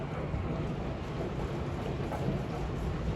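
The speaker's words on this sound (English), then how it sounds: "Raining really hard out there right now." Heavy rain pours down outside during a storm, a dense, even roar of broadband noise with no breaks, steady and fairly loud throughout.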